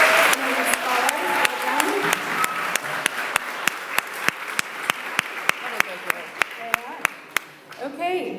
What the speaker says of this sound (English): one more round of applause for these scholars